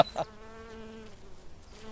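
Bees buzzing near a canal in a natural outdoor setting, a steady close drone with a wavering pitch after a couple of brief knocks at the start.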